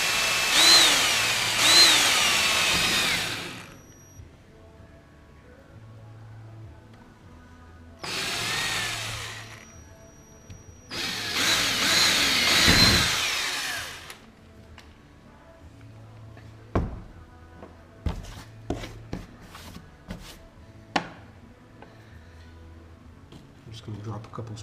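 A power drill drives screws while a hatch is installed on a boat, three long loud whirring bursts followed by softer clicks and handling knocks, with a person talking between them.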